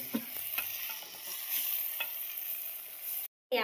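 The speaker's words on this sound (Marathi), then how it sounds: "आपले मस्तपैकी मसाला वगैरे सगळं फोडणी देऊन झालेलं आहे" Spices crackle and sizzle in hot oil as a tempering for sambar, a steady close frying hiss with scattered pops and stirring scrapes, cutting off abruptly near the end.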